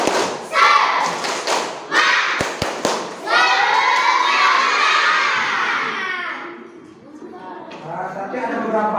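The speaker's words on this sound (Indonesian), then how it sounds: "Kita tepuk semangat dulu." Primary schoolchildren in a classroom doing a rhythmic spirit clap, with sharp sets of patterned claps and thumps mixed with children's shouts and chanting, followed by quieter classroom sound.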